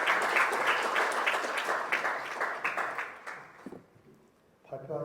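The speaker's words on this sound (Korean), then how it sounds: "큰 박수로 맞이해주시기 바랍니다." Warm audience applause at a forum welcoming the president of a talent-donation association to the stage, dense and loud at first, then thinning and fading out before a voice begins speaking.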